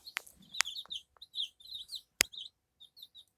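Newly hatched chicks, a day out of a February incubator, peep in short high bursts close by, with a few sharp clicks between calls and no talking.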